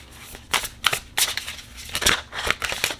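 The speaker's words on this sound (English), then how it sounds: "we're going to shuffle, shuffle, shuffle now" Tarot cards shuffled in several quick, crisp riffling bursts, each a short papery rush, close by with no talking.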